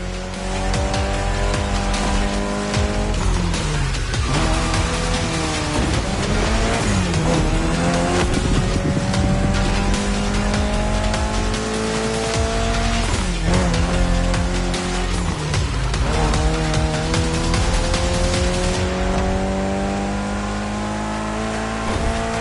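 A race car in a video game racing lap snarls continuously at high revs, its engine pitch rising and dropping through gear changes while tires squeal and skid through corners, loud and close with no talk.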